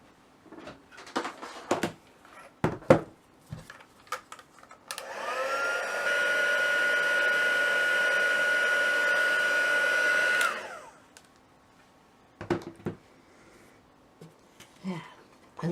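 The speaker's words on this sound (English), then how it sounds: "we'll get the heat gun out again" Heat gun used for heat embossing a birthday card: a steady blowing whir switches on, holds for about five seconds at even loudness, then cuts off, framed by light handling clicks and taps before and after.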